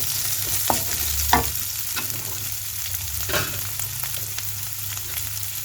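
Cubed onion sautés in a pan for Gobi Manchurian, a steady soft sizzle broken by a few scraping stirs of the spatula, with a low hum and faint background tones underneath.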